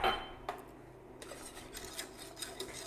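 Spoon scraping and stirring ingredients into a white sauce in a pan, soft rasping strokes repeating at a steady pace, quiet and close.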